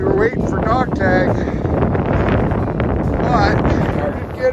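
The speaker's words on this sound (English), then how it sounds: "it started getting windy again" Strong wind gusts buffet the microphone on a hilltop along the Appalachian Trail, a loud continuous rumble that persists under people talking nearby.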